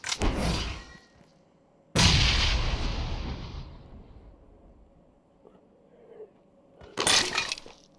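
Bombs go off in a video game as three loud booming blasts, each decaying into a rumbling tail, with quieter gaps and small clicks between them.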